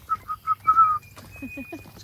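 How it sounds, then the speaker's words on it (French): Small birds chirping in a calm outdoor setting, a run of short bright whistled notes followed by softer lower chirps, fairly close and alone without talk. "Le calme et les petits bruits des oiseaux."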